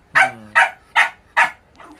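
A large German Shepherd barks four times in a steady rhythm, each bark loud and close, followed by a fainter fifth yelp at the end.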